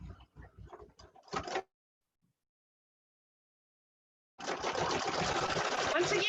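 A sewing machine stitching the edge of a fabric mask, running in a fast continuous whir for about two seconds at the end after a long silence, preceded by a short burst of stitching at the start.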